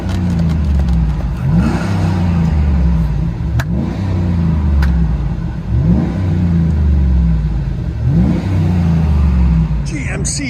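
A 2012 GMC Sierra Denali's 6.2L V8 with a Carven TR-Series exhaust revs loud and close in repeated throttle blips about every two seconds, its deep rumble filling the whole stretch with no talking over it.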